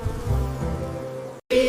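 A steady, droning insect-like buzz imitating busy bees in a children's nursery rhyme, holding evenly for over a second before a short gap and a brighter burst.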